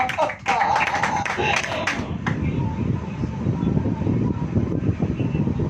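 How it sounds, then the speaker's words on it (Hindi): Church congregation clapping at a sermon, a burst of hand claps mixed with voices at first, then fading into a rough, windy rumble. "अरे ताली बजाइए।"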